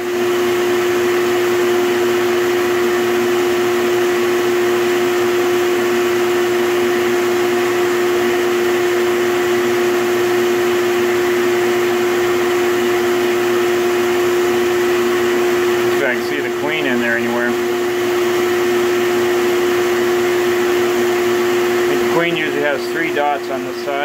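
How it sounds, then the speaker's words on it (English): Vacuum cleaner running continuously up close, a loud steady whirring drone with a strong tonal hum, briefly shifting as it is moved, while a person talks over it. "Move my vacuum cleaner again."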